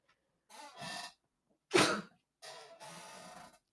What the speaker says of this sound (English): Bless you, sneezing.